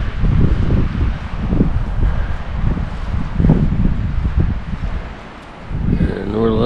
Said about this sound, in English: it's really windy up here in northern Michigan today